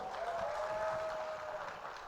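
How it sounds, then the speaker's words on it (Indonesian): An audience at a youth culture appreciation event in a Jakarta hotel applauds, a steady wash of clapping with no distinct claps standing out, heard at a moderate distance. "Terima kasih tepuk tangannya"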